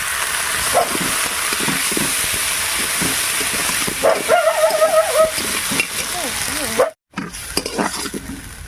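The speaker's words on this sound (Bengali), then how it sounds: "এর মধ্যে এবার আদা রসুন বাটাটা দিয়ে দিচ্ছি" Ginger-garlic paste frying with reddened onions in oil for a chicken curry, a steady broadband sizzle with stirring scrapes throughout, a brief silent gap near the end, with some voice faintly in the background.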